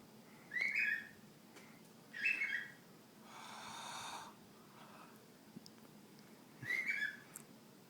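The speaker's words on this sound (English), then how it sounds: "You're one crazy bird, Frankie." A pet bird whistles in short, bright bursts spaced a few seconds apart, with a breathy hiss between them, fairly faint in a quiet room with no talk.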